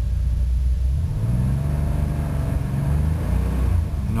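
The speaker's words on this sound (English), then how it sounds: "If I put the gas down, it gives me a little bit of a rev." An old red car's engine revs as the gas is pressed, a steady low rumble that swells slightly and holds throughout, close and loud with no talking.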